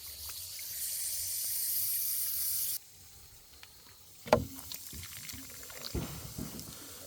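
Water runs from a hose pipe in the Jamaican countryside to mix a strong soap-powder solution: a steady, fairly loud rushing hiss for under three seconds that cuts off abruptly, followed by scattered knocks and bumps.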